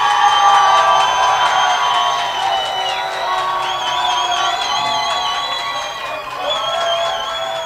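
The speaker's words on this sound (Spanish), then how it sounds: "El público va a elegir por aplausos." A television talent show studio audience cheers and applauds loudly, with whoops and shouting over continuous crowd noise and musical tones running underneath throughout.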